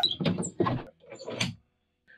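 A school bus door with a newly installed latch and handle being swung shut, heard as a few knocking, rattling bursts of metal door and latch movement close by, then quiet.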